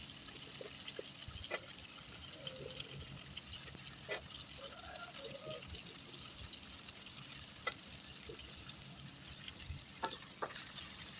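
Brinjal pieces and crushed jackfruit seeds soften in oil for a Tamil kuzhambu, giving a faint, steady low sizzle with scattered soft clicks and stirring taps, no voices over it.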